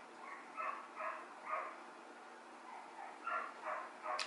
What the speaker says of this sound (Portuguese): olha esse cachorro da minha vizinha